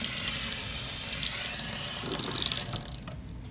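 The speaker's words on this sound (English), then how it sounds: "So if I would have turned this water on and drank it" A water tap runs in a steady, close hiss of flowing water that then cuts off near the end, leaving near silence; no one speaks.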